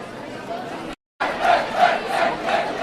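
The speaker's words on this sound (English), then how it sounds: "there's random cheering and shouting" A crowd cheers and shouts in the distance, a rolling roar of many voices that drops out briefly, then swells back louder in waves.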